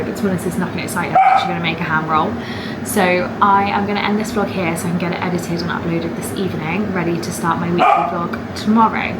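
A dog barks and yips intermittently in a home, partly masked by someone talking steadily throughout.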